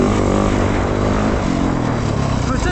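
Yamaha YZF 450 dirt bike engine running steadily loud and close, a continuous four-stroke drone with slight pitch shifts as the throttle varies.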